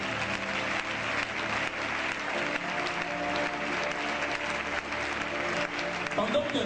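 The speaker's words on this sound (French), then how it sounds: "Acclame pour la gloire de Dieu." An audience at a church prophets' gathering applauds continuously, a dense, steady clatter of many hands clapping with some crowd voices mixed in, sustained at full loudness throughout.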